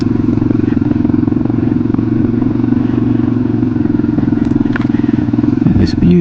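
A Yamaha XT 250 dual-sport motorcycle rides along a trail in Michigan's Upper Peninsula, its engine a steady close drone with loose clatter and crackle from the ground throughout.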